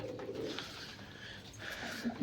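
Soft pigeon coos, low and rounded, repeating against a quiet background with faint ambient noise in a Punjab village.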